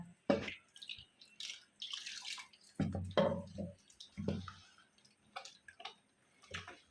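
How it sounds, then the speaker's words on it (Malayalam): Water used to rinse a mixer-grinder jar splashes and trickles in short bursts as it is poured into idli and dosa batter, with clinks and small knocks between pours, close by. "ഞാൻ ഈ മിക്സി കഴുകിയ വെള്ളം കൂടി ഇതിലോട്ട് ഒഴിക്കുന്നുണ്ട്"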